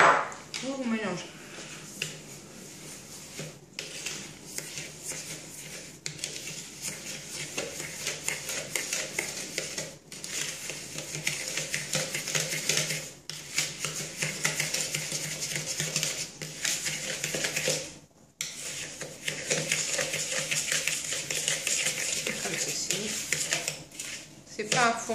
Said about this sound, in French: Et une fois que vous avez mis vos ingrédients, vous mélangez.